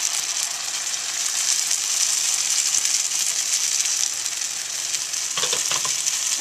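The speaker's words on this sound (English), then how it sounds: "Nice hot oil dancing in the pan, and we're just going to see that sizzling sound?" Banh xeo rice crepe batter sizzling and frying in hot oil in a pan over high heat, a loud, steady, dense crackle that holds for several seconds with a few brief knocks near the end.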